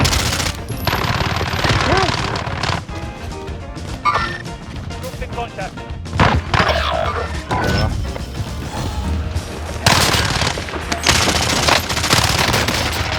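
Rapid bursts of automatic gunfire in Call of Duty: Warzone with metallic clatter and crashes, in quick repeated volleys, loud and close, with a voice speaking in between.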